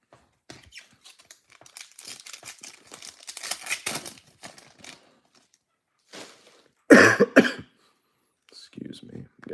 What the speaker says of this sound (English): I'm getting over a cold, so I cough every once in a while